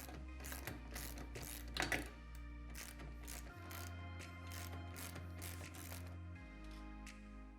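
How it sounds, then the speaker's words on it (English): Steady clicking of a ratchet wrench working the A-pillar bolts on a Honda Talon UTV, fast even ratcheting strokes close up, with a low mechanical hum underneath. "we're going to remove both of these bolts going through the A-pillars"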